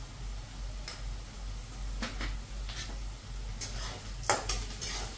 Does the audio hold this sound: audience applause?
no